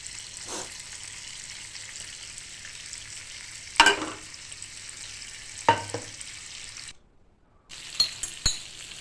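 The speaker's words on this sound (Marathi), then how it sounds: "सगळे बांगडे मी तव्यावर भाजून घेते. कढईने परत एकदा तेल सोडून घेते याच्यावर." Bangda mackerel frying on a griddle with oil, a steady sizzle running under the whole stretch with a few sharp metallic clinks and scrapes, a brief silent gap, then more sizzling and clinks.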